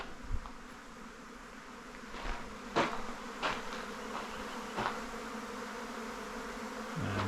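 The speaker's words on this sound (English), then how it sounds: "Look at the bees." Bees buzz faintly and steadily in the background on the Bibbulmun Track in the Darling Range, Perth Hills, with occasional louder passes as insects fly close to the microphone; no voices.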